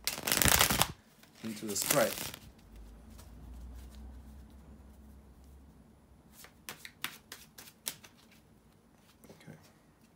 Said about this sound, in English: bear with me a second guys to shuffle the cards